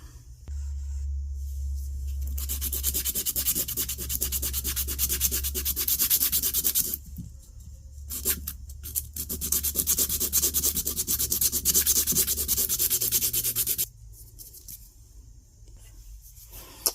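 A resin shift knob being hand-sanded, steady rasping strokes close up that run for several seconds, break off briefly, then resume, loud and continuous with no voices.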